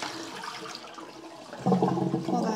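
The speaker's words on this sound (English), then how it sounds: "I'm just going to rinse off the excess dye." Water rinses excess dye from a dyed cotton yarn cake, a steady running splash that grows louder and fuller partway through.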